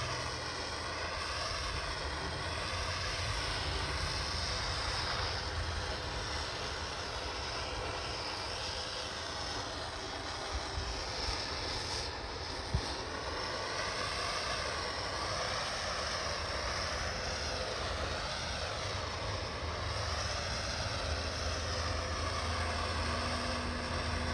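Propane torch heating undercoating on an S10 truck frame, giving a steady, moderately loud roaring hiss that continues without a break.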